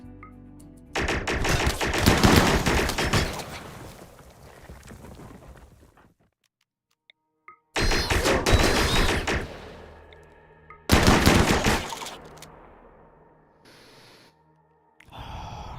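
Bursts of automatic gunfire as colonists shoot in RimWorld: three loud, dense volleys of rapid shots with quiet gaps between them and no talking.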